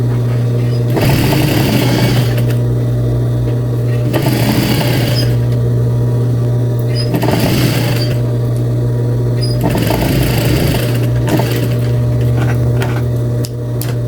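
A sewing machine runs in four steady bursts, closing a 1 cm seam on fabric placed right side to right side, with a constant motor hum between runs. Each burst is close, loud and rhythmic.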